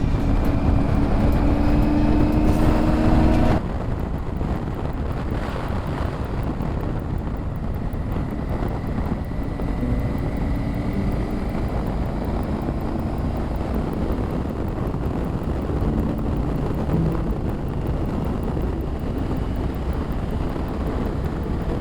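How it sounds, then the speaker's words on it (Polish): Steady, heavy wind roar buffets the microphone while riding a motorcycle in strong wind, a constant rushing noise with a louder burst at the start. "Tego dnia strasznie mocno wiał wiatr."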